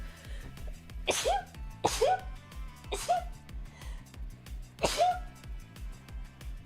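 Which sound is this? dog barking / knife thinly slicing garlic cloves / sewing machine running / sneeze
sneeze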